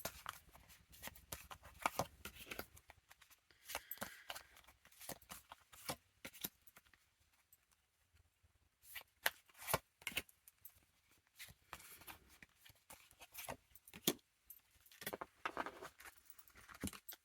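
Tarot cards are shuffled and handled quietly, with soft irregular riffles and taps coming in short scattered bursts, faint and close, with no talk.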